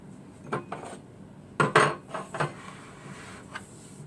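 Crushed Oreo cookies go into the middle of an ice cream cake with a few soft, scattered clinks and scrapes of a utensil against a dish, quiet between the clatters.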